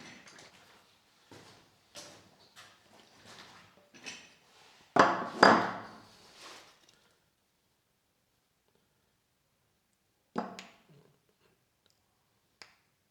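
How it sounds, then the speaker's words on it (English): A tool scrapes old grease out of the housing of a broken angle grinder, giving quiet, scattered scraping clicks and taps, a louder cluster midway, then a long silence and a couple of final taps. "We're gonna scrape out this grease that's in here because it's pretty nasty."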